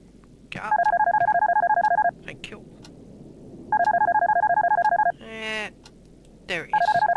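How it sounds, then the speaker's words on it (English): A telephone rings in the horror video game Darkness Within: loud, clear electronic trilling bursts about one and a half seconds long, repeating with a pause. Other brief game sounds, including a rising warble, fill the gaps. "Oh, where's this goddamn phone?"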